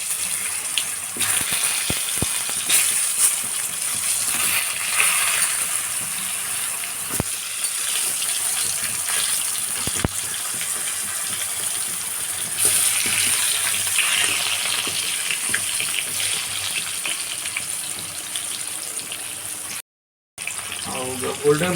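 Potatoes fry in oil in a kadai, giving a continuous loud hissing sizzle close by with occasional clinks, holding steady throughout apart from a brief dropout near the end.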